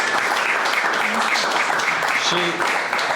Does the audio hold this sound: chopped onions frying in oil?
no